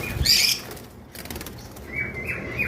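Pet lovebirds, a Lutino Fischer's red-eye paired with a blue bird, flap their wings in a cage in a short close burst, followed by faint chirps from the birds.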